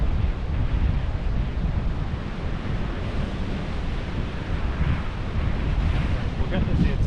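Strong, steady wind rushes and buffets at the shore in Newbiggin by the sea, mixed with rolling surf, a dense, continuous roar with no breaks.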